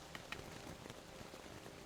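Rain sound effect played during a tabletop role-playing game session, a faint, steady patter of drops on a surface with a few brief louder taps, running alone without talk.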